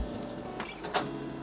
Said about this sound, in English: I'm going to pause the printer.